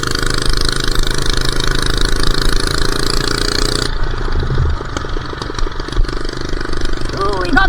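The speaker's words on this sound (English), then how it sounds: "Ooh, we got the pop. We got the backfires going." A small minibike engine runs at full throttle with a rough buzzing roar, then the tone drops and sharp popping backfires crackle near the end, with a voice talking over it.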